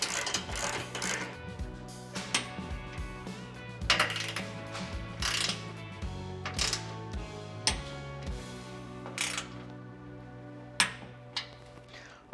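Ratcheting and metallic clicking as bolts are tightened on a Trailhunter skid plate beneath a 2024 Toyota Tacoma, with repeated sharp clinks and ratchet sweeps over a steady mechanical hum.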